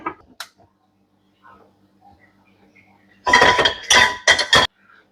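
A metal kazan cauldron is set down on a home stove in a kitchen, a burst of clanking and clinking metal contacts lasting over a second after quieter faint handling sounds.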